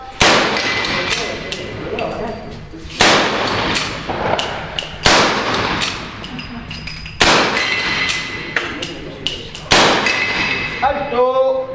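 Five gunshots fired in about ten seconds during a timed shooting drill, each sharp loud report ringing out with a decaying echo, spaced unevenly with a brief pause midway, ending with a faint metallic click.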